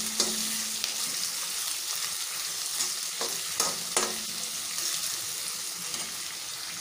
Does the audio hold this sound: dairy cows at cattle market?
no